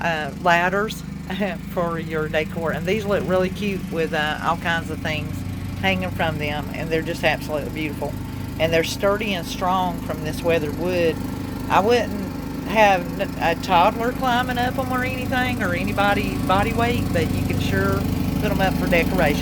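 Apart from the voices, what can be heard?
lawn mower running nearby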